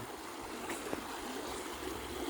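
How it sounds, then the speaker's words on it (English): Water rushes in a steady, dense wash from a flowing stream, constant and close with no pauses or voices. "Love the noise of this water"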